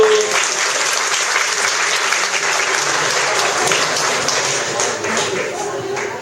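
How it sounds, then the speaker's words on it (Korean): A church congregation at a Sunday service breaks into steady, dense applause that fills the room at an even loudness from start to finish, with a faint voice or two showing through the clapping. "박수."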